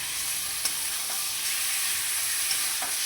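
Boiled, drained taro leaves being stirred in a frying pan of hot oil: a steady close sizzle with a few sharp spatula scrapes against the pan, and no talking.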